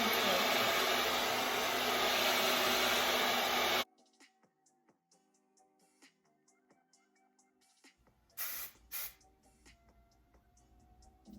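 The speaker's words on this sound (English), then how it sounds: "I'm gonna take my blow dryer, this one's a Twin Turbo 3200, and put it on medium." A steady, loud Twin Turbo 3200 blow-dryer roar on medium setting runs for a few seconds and then cuts off abruptly, leaving near silence with faint rustles and brief bursts.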